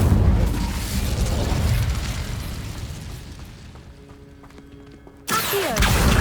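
An Incendio fire spell cast in Hogwarts Legacy, fighting a giant spider: a loud, sustained roaring burst of flame that slowly dies away, then a sharp new blast at the end.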